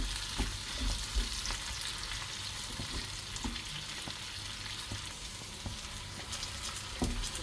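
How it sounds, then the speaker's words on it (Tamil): Garlic, onion and dried red chillies sautéing in a pan for garlic onion chutney, giving a continuous close sizzle broken by occasional sharp clicks of stirring, with no talking. "பூண்டும் வெங்காயம் வரமிளகாய் எல்லாமே நல்லா வதங்கி வந்துருச்சு."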